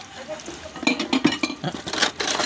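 Dishes clink and clatter in quick, uneven bursts, plates and utensils knocking together at close range over faint background noise.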